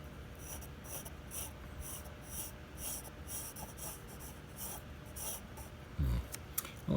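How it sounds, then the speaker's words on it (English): Pencil lines drawn across paper for a box or book sketch, a soft continuous scratchy rasp in repeated strokes, close and quiet, with a brief low bump near the end. "I'm going to redraw that a little bit. Drew it kind of lightly."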